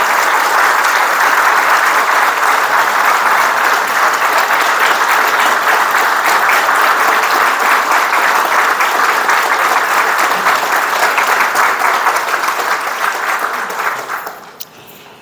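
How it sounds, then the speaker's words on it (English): Sustained, loud audience applause at a Missouri groundbreaking and naming ceremony, honoring Governor Parson and fading out in the final second. "let's give him another round of applause"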